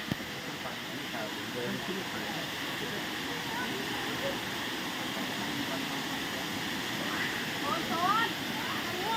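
Water pours steadily down the third tier of Erawan waterfall in a continuous broadband rush, with faint voices of people mixed into the roar.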